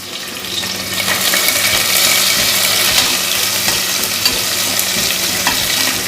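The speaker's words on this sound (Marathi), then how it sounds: "आपण ह्यातला अर्धा कांदा तेलामध्ये टाकूया आणि हा कांदा आपल्याला गोल्डन ब्राऊन करून घ्यायचा आहे" Onion frying in hot oil, a loud continuous close sizzle with crackling texture and light stirring throughout, no voices.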